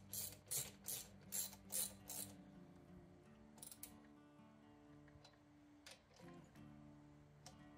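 Tightening parts on a 1967 Triumph T100C motorcycle during clutch and ignition work: quick, faint, rhythmic ratchet-like clicking in several short bursts, followed by a few scattered metallic ticks.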